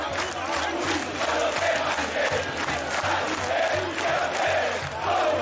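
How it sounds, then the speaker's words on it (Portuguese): A large football stadium crowd in the Brasfoot video game chants and roars continuously, a dense, loud wall of many voices with no pauses. "Estão ouvindo aí muita torcida da Ponte Preta"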